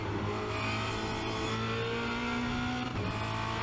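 Formula Renault 2.0 race car at Spa-Francorchamps, heard from on board as the engine drones loudly and steadily, then a quick downshift near the end briefly breaks the pitch before the engine note climbs again.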